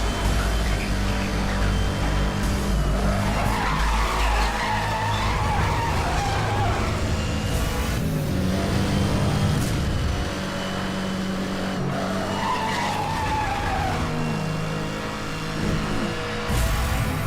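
A car drifts in the racing game NFS Hot Pursuit, its tires skidding and squealing loudly over a steady, continuous engine roar, with the screech swelling and fading through the run.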